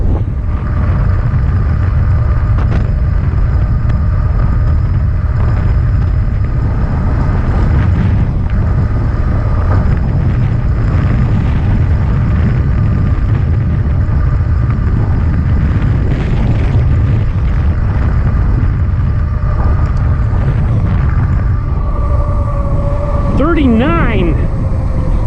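A Mokwheel Onyx mid-drive e-bike accelerates hard on full throttle, its motor whine and rushing wind loud and constant throughout. A rising electric tone emerges near the end, and a rider's voice is faintly present under the noise.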